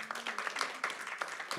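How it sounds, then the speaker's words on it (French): Audience applause in a hall for Karina, founder of the fair, at a round-table event: a short burst of steady clapping from many hands with faint voices mixed in. "un grand tonnerre d'acclamation pour Karina qui est présente dans la salle"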